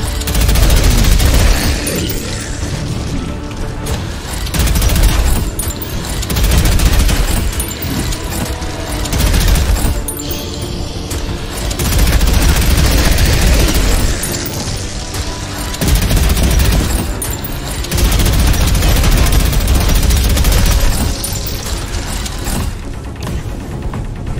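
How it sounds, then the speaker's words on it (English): Sustained, loud machine gun fire in the retro-styled shooter Prodeus, dense rattling bursts repeating across the stretch with brief lulls between volleys, mixed with heavy booms. "let's go machine gun"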